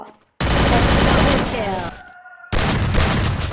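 Video game gunfire in a 4v4 shooter match, loud bursts of rapid shots in two stretches broken by a brief gap, with a voice talking over the action.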